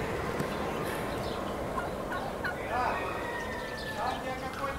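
Fowl-like birds at the Bakhchisaray zoo give repeated gobbling and clucking calls, several overlapping cries close by against a steady outdoor background hum.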